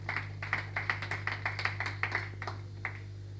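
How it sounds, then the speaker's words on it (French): A church congregation claps in a loose, uneven patter of about a dozen hand claps, moderately close and fading toward the end, with a steady low hum underneath and no talking. "Acclamez pour le Seigneur Jésus."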